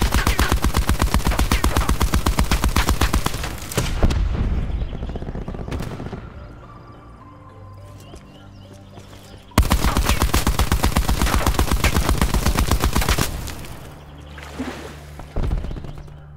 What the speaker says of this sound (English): The next weapon that's in the Blackout teaser is the Titan LMG